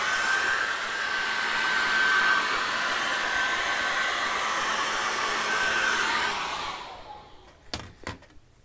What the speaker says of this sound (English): I'm going to give that a good hair dry.